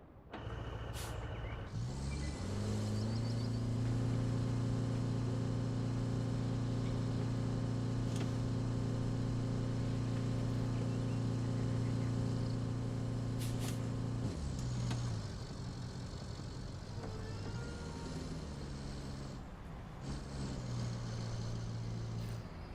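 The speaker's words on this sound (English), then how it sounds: "This truck feels like it's got an engine out of an 80s Metro in it. It even sounds like the exhaust on an English car." Truck engine and exhaust in the video game RoadCraft, a steady droning tone held for around twelve seconds before revving down and shifting, then a rougher lower idle-to-rev stretch, fairly loud with no talking.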